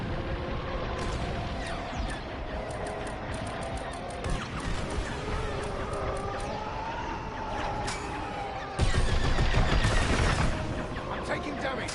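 Rapid laser cannon fire in a Star Wars space-fighter video game, a dense stream of sharp repeated shots over engine rumble and game effects, with one burst growing suddenly louder near the end.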